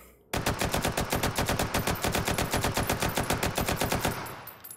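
A gun fired on full auto in the VR shooter Hot Dogs, Horseshoes & Hand Grenades: a long, loud, evenly spaced burst of rapid shots that starts abruptly, runs about four seconds, then stops with a short fading echo.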